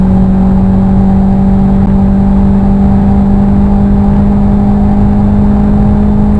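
A race car at full throttle through a left-hander in a 2012 club championship round, its engine a loud, steady, close drone holding one pitch with no break.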